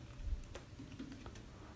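Quiet keystrokes on a computer keyboard, a few faint taps spread irregularly across a short stretch, low in level with no talk over them.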